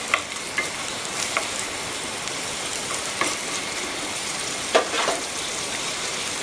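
Crushed chilli stirs in a hot pan with a steady crackling sizzle, broken by a few light scrapes and taps of a spoon against the pan, close and alone without talk.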